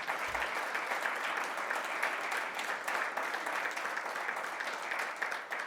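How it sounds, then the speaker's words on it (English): An audience at a fall forum in Atlantic Canada gives a round of applause, steady dense clapping that holds evenly throughout, fairly distant and unbroken by talk. "I think a round of applause for everybody who is living in Atlantic Canada who has maintained these numbers"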